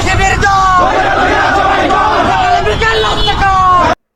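A political crowd chants a slogan in unison, loud and close, with many voices rising and falling together in rhythmic shouted phrases over dense background babble.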